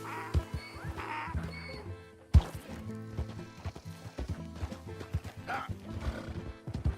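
A horse gallops in the Western video game Red Dead Redemption 2, its hoofbeats running steadily through dense in-game sound and music, with a short exclamation from a player.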